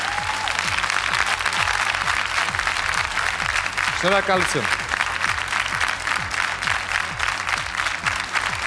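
An audience at the seventh gala concert of the Hay Superstar 5 televised singing contest applauds loudly and continuously, with a brief spoken thank-you and a short musical or vocal tone rising partway through the sustained clapping.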